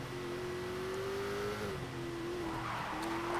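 Race car tires skid and squeal through a handbrake turn in the racing game Grid, a sustained wavering screech over a steady engine drone, fairly quiet and mostly alone.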